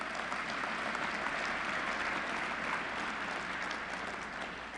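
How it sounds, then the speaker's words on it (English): An audience at a Kentucky Chamber of Commerce event breaks into dense, steady applause that fills the room for several seconds with no voices over it, easing slightly at the end. "Give them another round of applause"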